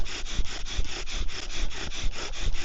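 A wooden bow drill spins back and forth in a shallow divot on a hatchet, giving a steady, rhythmic rubbing and sawing grind with regular strokes, close and fairly loud, no voices.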